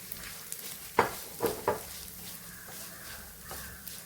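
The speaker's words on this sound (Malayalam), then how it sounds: "അവല് നെയ്ക്കകത്തൊന്ന് നോക്കിക്കാം." Flattened rice frying in ghee gives a soft, low sizzle close by, broken by a few brief scraping stirs of a ladle, with no talking.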